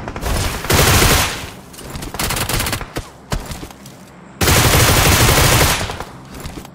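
Gunfire in a mobile shooter video game rattles out in bursts of rapid automatic fire, loud and close, with short pauses between volleys.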